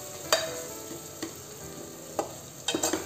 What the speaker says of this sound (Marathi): आता हे सर्व मसाले छान परतून घ्यायचे आहे।